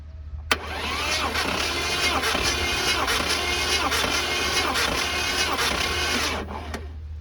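A Mercedes M117 5.8-litre V8 cranks over on the starter during a compression test on one cylinder, a close, steady rhythmic churning for about six seconds that starts and stops abruptly, with no coolant in the engine.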